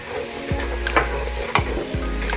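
Three garlic cloves fry in a pot with softened onions for a cream of potato soup. A steady, close sizzle runs throughout, broken by a few scraping stirs.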